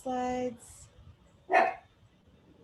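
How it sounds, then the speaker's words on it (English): A pet chihuahua gives a single short, sharp bark in the background, following a brief stretch of a person speaking and followed by quiet room tone. "you can hear my chihuahua barking in the background"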